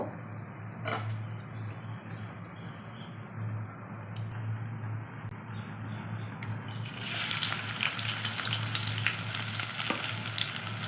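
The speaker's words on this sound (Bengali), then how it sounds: "প্রথমে আমি তেল দিলাম, বেশি দিচ্ছি না, অল্প।" A small amount of oil sizzles in a pan ahead of cooking rohu fish curry, a steady close frying hiss that grows louder and brighter partway through, with no speech.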